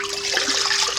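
Pre-measured water, 440 grams, poured from a container into a mixing bowl for sourdough focaccia in a home kitchen; a brief, close, splashing gush.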